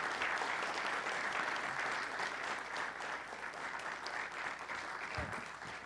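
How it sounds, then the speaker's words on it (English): Warm, steady applause from a lecture audience for the speaker, many hands clapping at a moderate distance and continuing evenly throughout, tapering slightly toward the end. "And let's all give Linsey one more wonderful round of applause."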